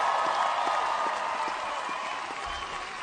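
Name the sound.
audience applause at Bernie Sanders town hall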